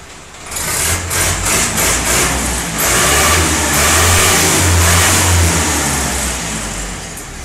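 A 2014 Indo Farm 3055 tractor's diesel engine runs loud and close after a diesel pump service, holding a steady, heavy rumble with slight revving swells throughout.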